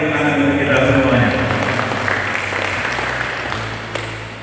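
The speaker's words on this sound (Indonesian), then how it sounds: "Terima kasih tepuk tangan untuk kita semuanya" Audience applause at an anti-corruption education session held at a vocational high school, a dense, steady wash of clapping that fills the clip and fades slightly toward the end.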